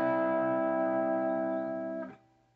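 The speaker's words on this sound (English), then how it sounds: "He's probably using a volume pedal" An electric guitar chord, played as a volume swell, rings out full and sustained, then fades away abruptly near the end.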